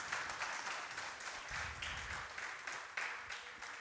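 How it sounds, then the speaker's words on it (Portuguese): A church congregation applauds for its members, a steady wash of many hands clapping at moderate volume that carries on for several seconds without pause. "Pode aplaudir os nossos irmãos."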